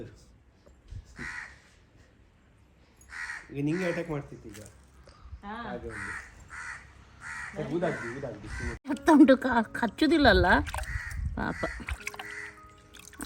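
Crows caw in several harsh, repeated bursts nearby, growing busier toward the end, while people talk in between.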